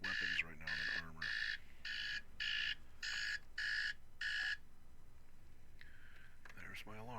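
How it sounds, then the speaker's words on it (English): An alarm clock goes off during a Conan Exiles play session, sounding eight evenly spaced beeping bursts in a steady rhythm, followed by a lingering tone and a voice starting to speak near the end. "There's my alarm."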